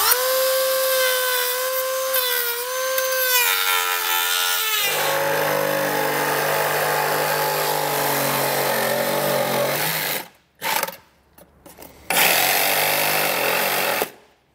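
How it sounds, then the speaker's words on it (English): A Dremel rotary tool and a hacksaw cut away bumper material on a 2022 Jeep during a base plate install, with a loud high-pitched whine that drops in pitch, then steady grinding and a few brief stops near the end. "So I'm gonna use a Dremel tool here and then probably come in with a hacksaw, sawzall, to"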